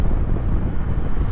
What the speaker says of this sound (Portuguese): Mas o vento tá gelado, hein?